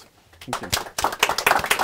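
Applause after a presentation at an immunooncology investor event starts as a few scattered claps and quickly thickens into brisk group clapping. A voice briefly speaks near the end.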